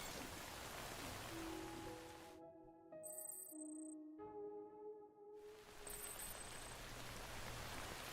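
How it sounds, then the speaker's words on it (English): Steady rain hiss in the video game Death Stranding, a broadband wash throughout with a sustained tonal musical or ringing sound rising over it in the middle, then the rain returning alone. "I don't think this rain's gonna stop."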